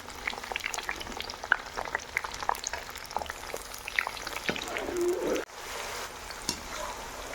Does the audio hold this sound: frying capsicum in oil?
yes